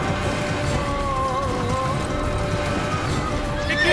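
A horse gallops in the Assassin's Creed video game, rhythmic hoofbeats under a game soundtrack with sustained musical tones, while a person talks over the action.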